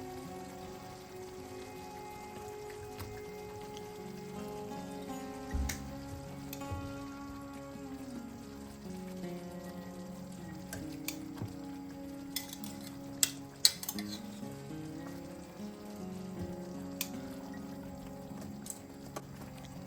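Chicken fillets fry in a pan with a steady, close sizzle and crackle, a few sharper pops and clinks scattered through the sizzle and no voices.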